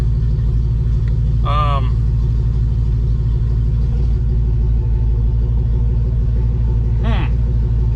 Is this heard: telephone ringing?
no